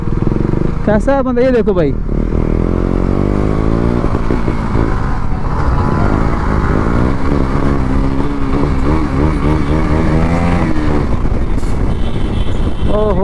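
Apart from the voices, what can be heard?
Yamaha R15 motorcycle racing in traffic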